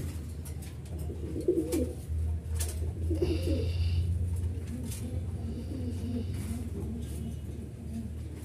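A pair of black Sirazi pigeons, a male and a female, coo in low repeated phrases close by, with a steady background hum and a few faint higher chirps.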